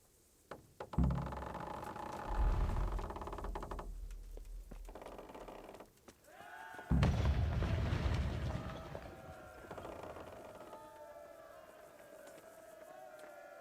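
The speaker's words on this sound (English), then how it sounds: "We're about to fire a trebuchet at the castle." A trebuchet fires on Talmberg castle during a siege in the game Kingdom Come: Deliverance: two heavy, rumbling bursts with mechanical clatter, the second louder and more sustained, fading into a lingering tonal ring.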